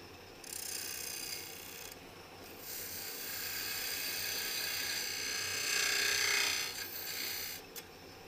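A woodturning tool cleans up the face of a wooden lidded box spinning on a lathe, giving a steady, faint scraping whir that swells and eases in passes, with no talk.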